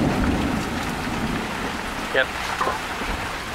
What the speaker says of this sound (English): We got hail. See it? It's like kind of bouncing off the roof right here.